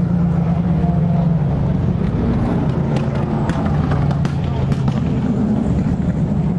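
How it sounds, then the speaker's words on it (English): Endurance race cars, LMP2 prototypes and Corvettes, pass at the start of a race, a loud, continuous engine roar that fills the whole stretch with shifting pitch as they go by. "There go all the LMP1s, here's the LMP2s and the Corvettes."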